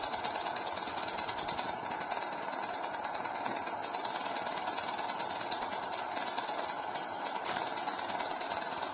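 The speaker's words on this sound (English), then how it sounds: "And that's what's causing the ratchet sound." An experimental Corbino disc plasma tube gives off a steady, dense ratcheting buzz, continuous and fairly loud throughout with a harsh, rapid rattling texture and no pauses.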